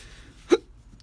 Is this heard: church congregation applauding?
no